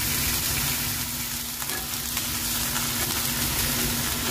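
Chinese squash and chicken sizzle loudly in a pan with a constant hiss, while a utensil stirs and scrapes now and then beneath the frying.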